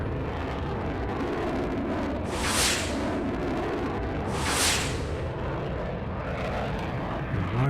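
An F-105 jet in Air Conflicts: Vietnam drones with a loud, steady engine roar, broken by two sharp rushing bursts a couple of seconds apart, with no talk.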